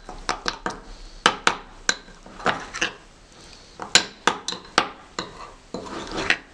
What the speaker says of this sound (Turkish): Ve karıştırmaya devam ediyorum.